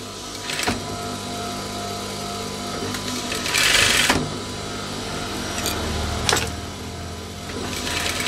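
A sewing machine stitches the back pocket of baggy trousers in bursts of motor whir, with a louder run in the middle and sharp clicks between stretches of stitching.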